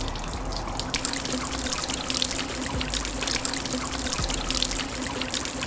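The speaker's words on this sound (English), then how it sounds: "is the force of the pump what causes the water to cascade over the entire top?" A pump-driven garden water feature sends water cascading over its whole top, a steady close pouring and trickling wash that runs unbroken throughout.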